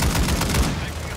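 Short burst of rapid gunfire in the shooter game Call of Duty: Modern Warfare II, several loud close cracks in quick succession that quickly fade away.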